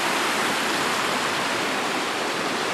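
Arbuckle Creek flows in a steady, dense wash of rushing water, loud and close and unbroken, in the New River Gorge.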